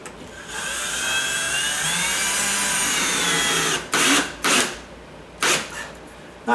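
A drill driving a 2-inch screw into a wooden 2x4 makes a steady, close whine for several seconds, then breaks into four short bursts as the screw is seated.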